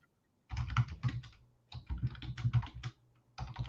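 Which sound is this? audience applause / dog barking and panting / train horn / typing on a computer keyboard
typing on a computer keyboard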